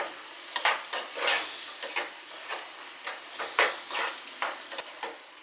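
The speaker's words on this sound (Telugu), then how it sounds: "ఈ ఉల్లిపాయ ముక్కలు అంటే గోధుమ రంగు వచ్చేంత వరకు వేయించుకోవాలి" Onion pieces fry until brown, a close sizzle broken by repeated stirring clatters and scrapes that come in an irregular rhythm.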